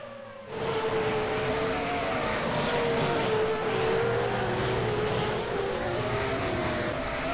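Grand Prix cars in a racing game at a Japanese circuit give a steady, loud, high engine whine with a sustained droning tone and slight pitch drift, without speech.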